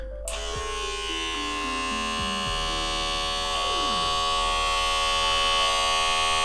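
A small electric paint and nail varnish shaker motor whirs loudly and continuously close by, its buzzing pitch wavering and sweeping as it runs, with no talk.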